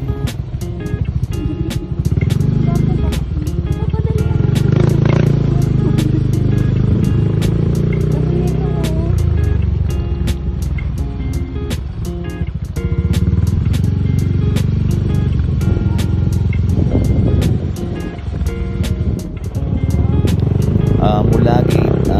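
A motorcycle engine hums steadily while riding at about 30 km/h on a marine base road, with wind buffeting and rattling bumps throughout; a voice talks over the ride.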